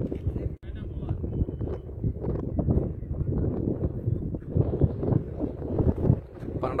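Strong wind buffets the microphone at an outdoor cricket ground during a pink-ball T20 match, a continuous low rumbling gust noise under ongoing spoken commentary.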